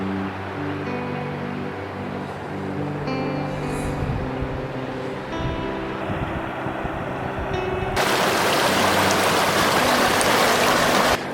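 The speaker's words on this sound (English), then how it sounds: "This is a nice spot by the river." A river flows steadily beside a snowy Colorado ghost town, its water rushing close and continuous, growing louder and more hissing toward the end.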